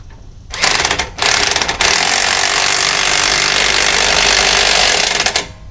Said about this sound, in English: This impact gun should pull it